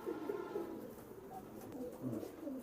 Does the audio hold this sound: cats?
no